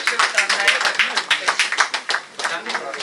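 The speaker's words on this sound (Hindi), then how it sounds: "सब आ जाइए, एक बार जोरदार ताली बजा दें सब।" A crowd claps together at a citizens' forum in Noida, loud and close, with sharp rhythmic hand claps running throughout and someone speaking over the applause.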